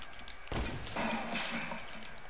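Hunting rifle gunfire in a video game: a sharp, loud report cracks out suddenly, followed by a second burst and ringing echo over quiet background.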